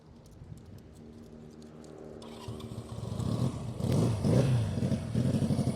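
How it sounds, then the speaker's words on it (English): A 1971 Honda CL175 motorcycle with under 100 original miles, its warm engine idling with a rapid, uneven putter that rises into louder revs near the end. "And Billy, fire it up."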